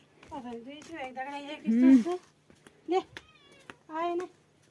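A cat meows close by, several drawn-out, plaintive calls with short pauses between them, clear and fairly loud.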